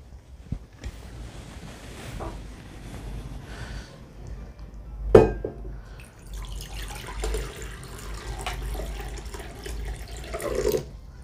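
Tap water runs and splashes into a bowl nearby, with a few clunks and knocks of handling in between, no talking.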